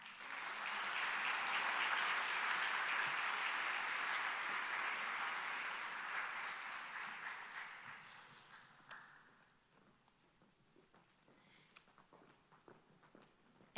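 Loud, sustained applause from a crowd that gradually fades out, leaving a few scattered claps and faint rustling at the end.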